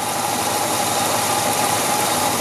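A 1966 Chevrolet Caprice with a 396 cubic inch engine idles steadily with a dense, even rumble and faint mechanical knocking, unchanging throughout.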